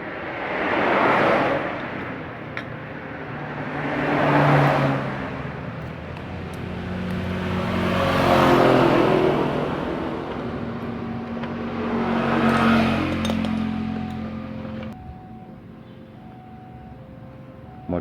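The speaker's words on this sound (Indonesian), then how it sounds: "Kemudian nanti motornya kita hidupkan ya" A motorcycle engine runs after its carburetor fuel hose is refitted, its steady drone swelling and easing in several slow revving waves before dropping to a quieter idle near the end.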